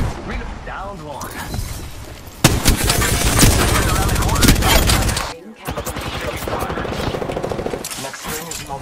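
Bursts of rapid automatic gunfire in Apex Legends, loud and dense, cutting off abruptly and then resuming as fainter, scattered shots, with a player talking over parts of the action.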